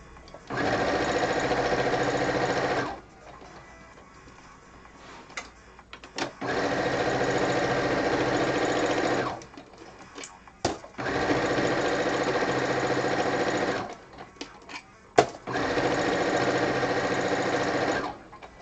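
A sewing machine stitches quilt binding in the ditch in four steady sustained runs of several seconds each, separated by short pauses with small clicks and handling sounds.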